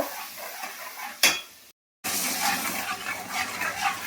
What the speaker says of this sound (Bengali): হালকা করে একটু হলো রসুন দিয়ে দিলাম দিয়ে মশলাটাকে ভালো করে ভেজে নেব